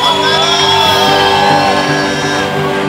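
A church congregation shouts for joy in a loud, sustained mass of voices, with whoops and yells layered over one another throughout.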